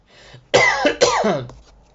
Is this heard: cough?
yes